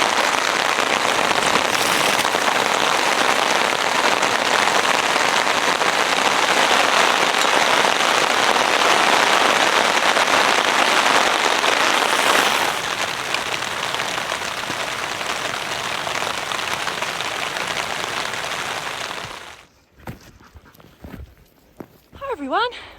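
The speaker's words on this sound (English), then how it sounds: "Here comes the rain." Rain falling during a mountain hike with a dog, a dense steady hiss of rain on surfaces for most of the clip, fading out near the end into a few quieter sounds.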